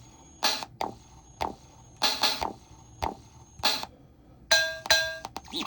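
Drum machine hits set off by touching fruit such as an apple, grapefruit, banana, lemon, lime and tangerine wired to a CircuitPython board. Sharp percussive strikes fall in an irregular pattern, some singly and some in quick pairs, at moderate loudness.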